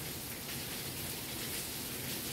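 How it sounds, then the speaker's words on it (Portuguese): Steady rain falls on a surface outdoors, a dense, continuous hiss that stays even and fairly loud throughout with no voices. "Vocês estão ouvindo, né? O barulho da chuva."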